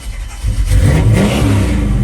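A 1986 Chevrolet Silverado C/K 10 pickup engine turns over and catches, then a loud, rough rev rises and holds close by, with no talk.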